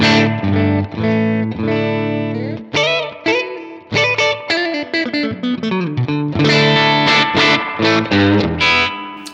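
An electric guitar plays chords and short melodic runs through a Danelectro Spring King Junior spring reverb pedal with real springs, notes ringing out and overlapping, with no voices.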